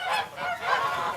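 A group of farm geese, part of a flock of about 120 raised for foie gras, honk steadily and loudly in an overlapping chorus with no talk.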